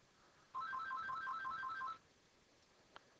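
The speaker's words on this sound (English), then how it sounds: "Had a phone call" A phone ringtone plays a quick repeating electronic chirp pattern for about a second and a half, then stops, heard faintly against a quiet room during an online poker session.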